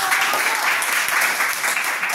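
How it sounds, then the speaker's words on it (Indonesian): A classroom full of people claps steadily and densely after a group presentation, a continuous wash of applause at close range. "tepuk tangan untuk"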